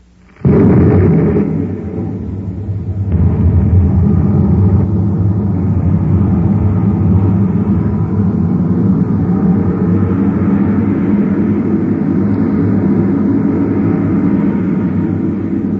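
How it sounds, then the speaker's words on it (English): Rocket engines firing as a sound effect in an old science-fiction radio drama, a loud, sustained roaring rumble that bursts in abruptly and holds steady for the whole stretch, with no voices over it. "Stand by to fire rockets."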